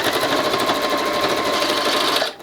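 Sewing machine stitching patchwork, a steady loud mechanical whirring and rapid clatter running continuously, then stopping abruptly as the bobbin thread runs out.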